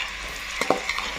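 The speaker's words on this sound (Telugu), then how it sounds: "బ్రౌన్ కలర్ అయ్యేదాకా వేయాలండి." Sliced onions fry in hot oil in a pan while being stirred for a spicy egg curry. A soft, steady sizzle runs under a few brief scraping clicks from the spoon, with no talking.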